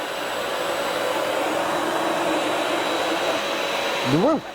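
A Sebo Felix upright vacuum cleaner runs on suction alone with the brush roll off, a steady whining motor hum close by that dips and shifts pitch right at the end.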